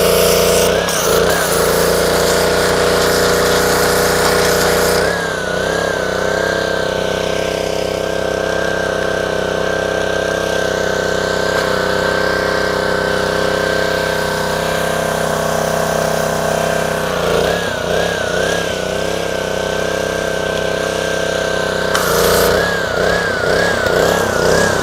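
A Ryobi 190cc engine on a pressure washer runs steadily, loud and close, a constant droning hum with a couple of brief wobbles in pitch as the load shifts.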